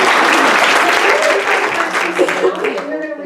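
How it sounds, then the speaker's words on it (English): An audience at Crystal Gardens in Southgate, Michigan breaks into loud, dense applause for a volunteer on stage, the clapping thinning and tapering off near the end as a voice comes in. "give him a round of applause"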